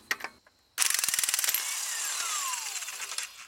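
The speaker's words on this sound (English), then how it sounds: "we're gonna go ahead and drive off this 22 millimeter nut with our impact gun" An impact gun rattles a 22 mm strut nut off a BMW E34 suspension strut held in spring compressors, a sharp rapid hammering burst after a brief pause, loud and close, then fading into a rough whir.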